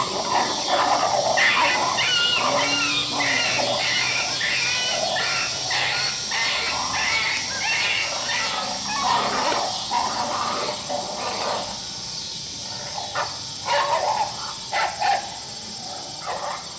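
Coyote barks and yips ring out in bursts over a steady insect buzz, somewhat distant in open country during a predator-calling hunt, with a few howling whines between.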